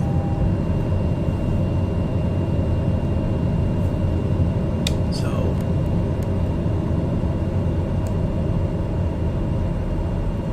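An aircraft in Microsoft Flight Simulator rolls for takeoff on runway 2, a loud, steady engine roar and broadband rumble held throughout with no letup, a brief higher whine near the middle.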